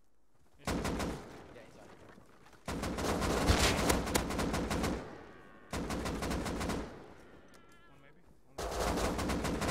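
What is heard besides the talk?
gunfire in the video game Rust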